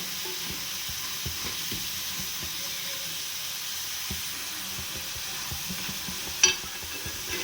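Eggs and potatoes fry in a little oil in a pan, giving a steady, close, even sizzle throughout, with light stirring taps and one brief clink near the end.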